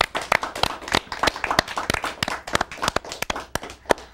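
TV studio audience clapping in a short, uneven burst of sharp, distinct hand claps at moderate volume, with no talk over it.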